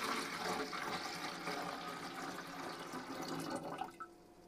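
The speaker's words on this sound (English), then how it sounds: "Next, get some water inside the tank." Water being poured into the 5-litre tank of a MeacoDeluxe 202 humidifier, a steady close gurgling splash that holds for several seconds, then tapers with a few drips at the end.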